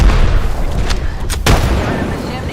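A frag grenade going off in a video game, heard as a couple of sharp booming bursts over a dense, loud game soundscape with constant low rumble.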